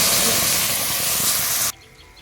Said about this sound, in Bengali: দিচ্ছি পরিমাণ মতন জল।